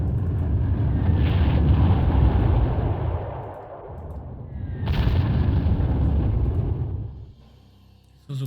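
Bomber attack explosions in the Panzer Corps strategy game, set at a Tunisian bridgehead: loud, rumbling booms and blasts in sustained waves, swelling again midway, with no talk.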